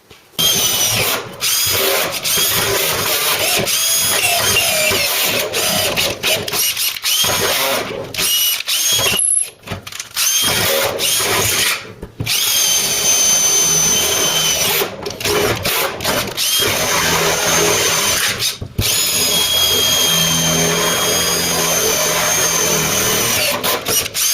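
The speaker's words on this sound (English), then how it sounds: "Okay, drilling now." A power drill whines loudly and steadily as it bores through metal, with a few brief stops and restarts along the way.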